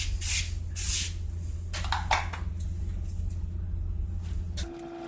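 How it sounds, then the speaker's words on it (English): Spray Away cleaner is spritzed onto a 2012 Yard Machines lawn mower in two short, hissing bursts, followed by faint clattering handling, all over a constant low engine-like hum. "I basically just have some spray away cleaner here"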